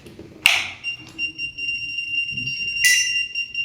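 A multimeter in non-contact voltage mode beeps near a live wire during AC repair work: two sharp, high electronic beeps, the first ringing on for a couple of seconds, loud and close over faint background noise.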